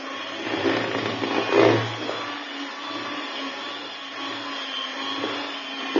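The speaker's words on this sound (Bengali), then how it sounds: "আমি ময়দা এগুলো সবগুলা দিয়ে একটু ভালোভাবে মিক্সড করে নিচ্ছি।" An electric mixer blends flour into plain pound cake batter, its motor giving a steady, close whirring drone that holds level throughout with slight swells in pitch and load.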